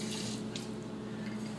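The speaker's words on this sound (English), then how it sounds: "put a little water in it" Water runs from a kitchen tap in a steady, faint trickle, being added to beaten eggs to thin them, with no talking.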